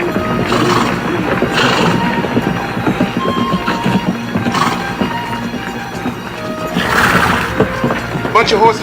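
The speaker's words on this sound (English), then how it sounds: "Bunch of horses coming this way from the river," A big bunch of horses gallops in from the river in a Western, with a clear neigh and hoof clatter under tense dialogue, music and busy action sounds.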